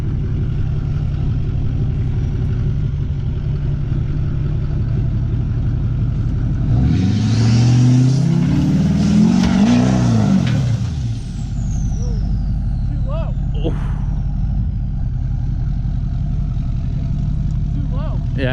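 A Duramax diesel pickup truck engine roars as it revs hard climbing a big hill, rising in pitch, then fading back under steady background rumble and distant voices.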